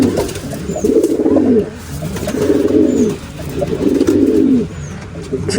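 Pigeons in a pigeon coop coo in three loud, close, rolling bursts, each lasting about a second with short pauses between, with a few faint chirps above.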